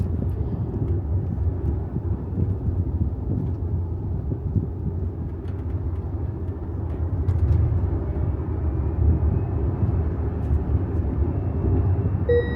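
A Tesla car, Ruby, is driven on the street on a hot day, producing a steady low road rumble and wind roar from inside the cabin, constant and unbroken with no talking.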